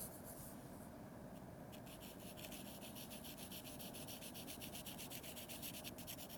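Fingers rubbing and blending charcoal across paper while drawing an eye, a continuous soft scratchy friction that stays steady and close throughout, with no voices.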